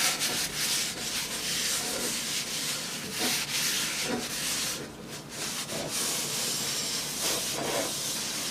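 Cloth or paper towel rubbing oil over the inside of a cast iron roasting pot during restoration, a steady close scrubbing swish with repeated strokes and no talk.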